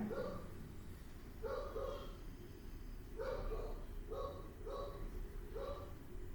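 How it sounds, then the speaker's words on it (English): A dog barks in a series of about six separate woofs spaced irregularly over several seconds, moderately distant and fairly quiet above a steady background hum. "You hear my dog barking?"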